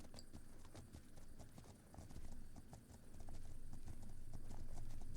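A herd of horses in a horse video game clops along with many overlapping hoofbeats in a steady busy rhythm, soft but continuous, and it gets somewhat fuller toward the end, with no speech over it.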